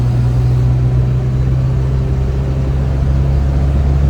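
A Suzuki Samurai with a swapped 1.6L 16V engine accelerates, giving a loud, steady engine drone with a strong low hum through the whole stretch and no voices.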